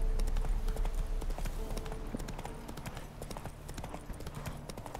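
Horse hooves clip-clop steadily at a brisk rhythmic pace in The Witcher 3: Wild Hunt, the repeated hoof strikes close and clear over a low ambient bed.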